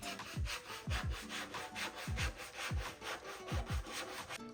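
Hand sanding wood veneer on a cabinet: repeated rasping back-and-forth strokes, about nine in an even rhythm, close and clear with no voices.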